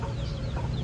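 Chickens on a farm in the Philippine countryside, brief soft clucking close by against low outdoor background noise.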